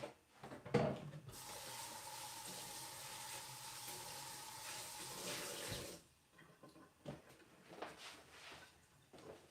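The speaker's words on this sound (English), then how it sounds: "I might have to rinse this one out too." Tap water runs into a sink while a dish is rinsed, a steady hissing gush that starts abruptly, holds for about five seconds, then cuts off, followed by faint clinks and handling noises.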